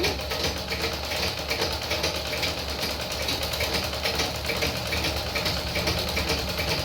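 A sewing machine runs steadily while stitching the side seams of a dress, giving a continuous, even mechanical whir with rapid fine rhythm throughout, close and moderately loud, with no talking.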